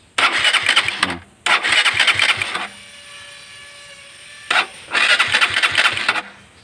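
A Honda TMX Supremo 150cc motorcycle's starter cranks loudly in three rough, chugging bursts separated by pauses with a faint electrical whine, the engine never settling into an idle.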